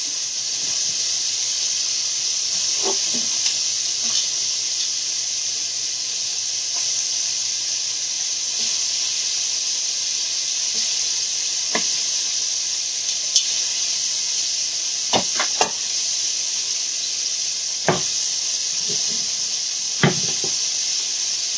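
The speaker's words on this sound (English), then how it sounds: "I'm gonna turn this skillet on low so my butter can melt to scramble my" Butter melting in a skillet on low heat for scrambled eggs, giving a steady soft sizzling hiss throughout, with a few brief clicks and knocks of kitchen handling near the end.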